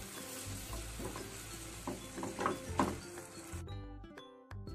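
Egg curry with masala and a little water is stirred in a pan, giving soft sizzling and several scraping strokes before the sound cuts to a quieter tail; no one talks.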